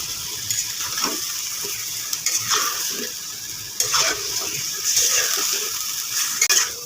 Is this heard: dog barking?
no